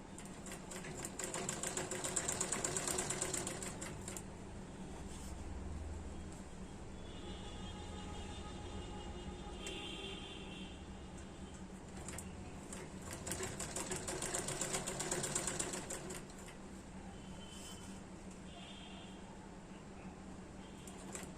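A sewing machine stitches fabric in slow, steady runs, its rapid mechanical clatter rising and easing over about twenty seconds, close but fairly quiet, with a few faint tonal beeps in the background.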